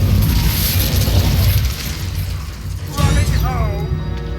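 A fire spell cast in Hogwarts Legacy bursts with a loud whooshing blast, followed by crackling debris and shimmering magical chimes as it fades.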